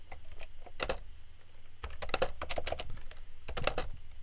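Code being typed on a computer keyboard: a few quick clusters of close, crisp key clicks separated by short quiet gaps.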